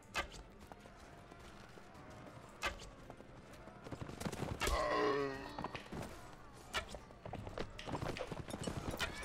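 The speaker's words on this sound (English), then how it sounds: "That's why I have a super fast horse." A horse gallops in the medieval combat game Mount & Blade, with clip-clop hoofbeats amid battle noise, grunts and a brief louder swell of action partway through.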